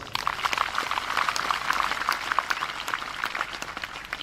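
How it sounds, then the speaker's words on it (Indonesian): Audience applause at an evening gathering of a police regiment in Indonesia, a dense, steady patter of many hands clapping at moderate distance, sustained throughout with no speech over it. "Tepuk tangan buat Anda semuanya."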